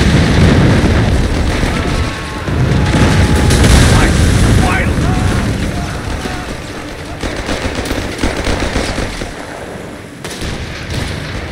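Heavy machine gun fire in the Company of Heroes 3 video game, loud rapid bursts mixed with explosions and battle noise, with soldiers shouting over the combat.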